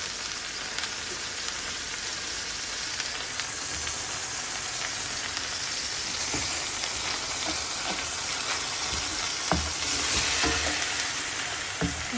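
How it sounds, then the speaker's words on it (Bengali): Onion and garlic paste with salt frying in a pan makes a steady, close sizzle and hiss throughout, broken by occasional soft scrapes of stirring, with no speech. "মশলাটা পেঁয়াজ আর রসুন বাটাটাকে একটু ভালো মতো ভাজা ভাজা করে নেব।"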